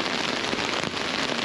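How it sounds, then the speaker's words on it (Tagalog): Heavy rain pours steadily, a dense loud hiss of drops hitting a surface with no pauses. "Lakas ng ulan."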